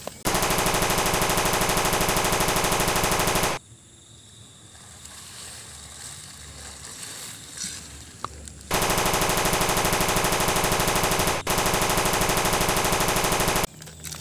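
A Cobra 308 gun fires in a video game as long, dense automatic bursts at full loudness, broken by a quieter stretch of ambient noise between them.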